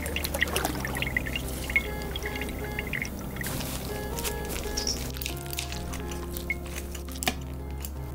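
Wet squishing and trickling as liquid spills out of a banana cut open in a mock surgery, with a continuous pouring dribble and scattered sharp squelches.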